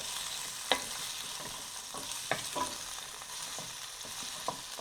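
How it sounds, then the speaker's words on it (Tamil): Grape tomatoes stirred into a pan of pomodoro pasta sauce, a quiet steady sizzle broken by a handful of soft scraping and knocking strokes at irregular intervals, close by with no talking. "இந்த தக்காளியை, அதை கிரேப் டொமேட்டோவை வந்து சேர்த்துக்கிறீங்க. சேர்த்துக்கிட்டு ஒரு மிக்ஸ் கொடுங்க"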